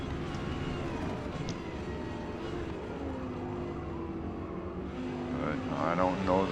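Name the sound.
Audi R8 race car engine in Forza Motorsport video game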